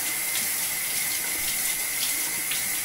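A tap runs steadily into a sink as a small child plays in the flow, giving a constant close hiss of pouring water with light splashy bursts and no talking.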